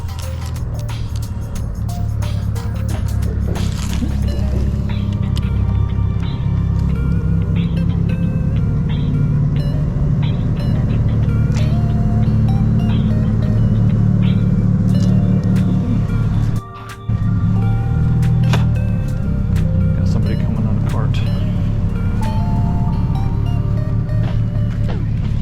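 A Mitsubishi Lancer Evolution 8 rolls in with a steady, deep engine and road rumble that stays loud and close throughout, with one brief dropout near the middle.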